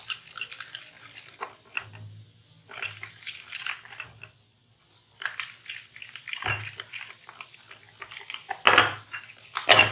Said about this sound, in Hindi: फिर हमने इसमें आहिस्ता आहिस्ता ये मैदा भी शामिल करते जाना है और इसको मिक्स करते जाना है।